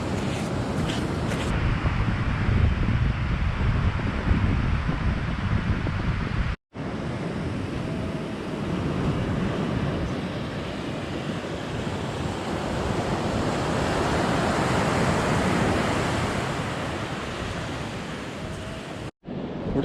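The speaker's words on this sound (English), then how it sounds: "these great big waves, which are small compared to the big storms that blow in here" Big ocean waves breaking on a wild coastal shore along a hiking trail, a loud continuous roar of surf with wind rushing over the microphone.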